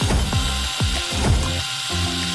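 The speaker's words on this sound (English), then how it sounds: "Put nails in the cardboard and screw them with a drill!" A power drill drives screws into cardboard with a series of loud, close whirring, ratcheting bursts that rise and stop several times in quick succession.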